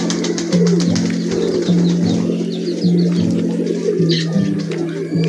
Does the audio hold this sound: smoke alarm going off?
no